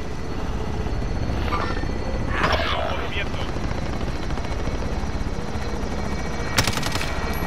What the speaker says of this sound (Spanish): voy a llamar al helicóptero